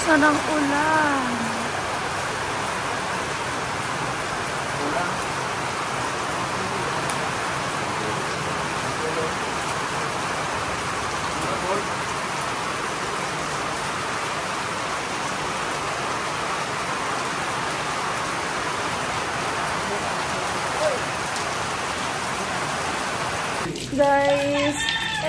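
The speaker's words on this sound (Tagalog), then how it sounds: "Ang lakas na ng ulan." Heavy rain pours down outdoors near a church, a loud, steady hiss of downpour that continues almost unchanged throughout.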